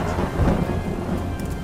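Steady rain falls with a low rumble of thunder beneath it, a dense continuous wash at close range with no talking.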